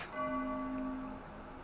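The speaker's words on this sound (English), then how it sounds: "Now I can hear some church bells." A single church bell in the video game Maid of Sker rings out with a clear resonant tone that slowly fades, heard alone.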